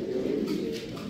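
Pigeon cooing at a pigeon breed championship in Catalonia, a single close, full, low coo that is loud and alone without talk.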